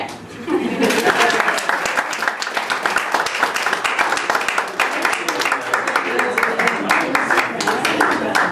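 Applause from an audience at an anniversary speech, dense continuous clapping with a brief voice at the start, sustained and fairly loud throughout.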